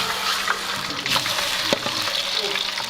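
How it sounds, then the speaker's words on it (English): Caspian Sea white fish frying in a pan in Iran's Rasht region, a steady close sizzle with occasional stirring scrapes and crackles throughout. "so she's frying that as well for lunch"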